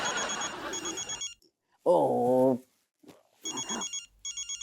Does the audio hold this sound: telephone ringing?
yes